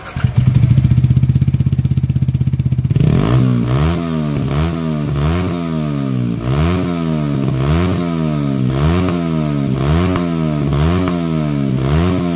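A Yamaha R15 V3 exhaust with the dB killer fitted idles loudly, then blips in repeated rising revs, a close, raspy motorcycle engine note.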